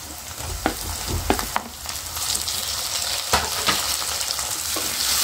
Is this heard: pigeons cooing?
no